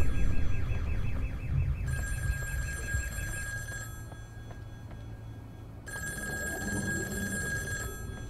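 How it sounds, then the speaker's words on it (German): A telephone rings in the game In Sound Mind, with two long electronic ringing bursts separated by a pause, fairly loud over a low ambient background. "Telefon!"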